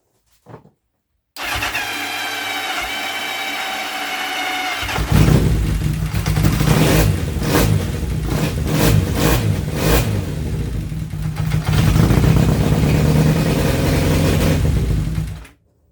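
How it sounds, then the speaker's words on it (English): A Kawasaki Zephyr 750 motorcycle engine cranks on the starter for a few seconds, then catches and runs loud and close, with several throttle blips and a sustained rev before it cuts off. "I'll now give you proof that I know what I'm talking about with a little clip that my bike starts."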